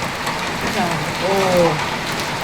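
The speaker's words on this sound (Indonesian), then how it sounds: "Hujan deui euy." Steady rain hisses on surfaces nearby while a voice briefly exclaims.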